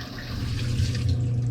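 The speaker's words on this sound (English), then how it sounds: "Then you just want to pour that in the bottom of your dishwasher." Vinegar poured into the bottom of a dishwasher, a steady soft splashing and trickling of liquid throughout, close by and with no talk.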